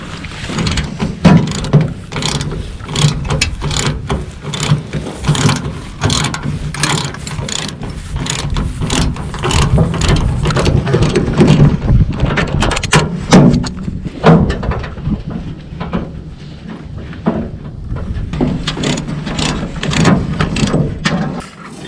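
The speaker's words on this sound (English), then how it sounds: "Dane's going to go ahead and take those bolts out" Hand ratchet loosening hood bolts on a John Deere 2840 tractor, loud and close, with rapid clicking strokes repeating in uneven bursts throughout.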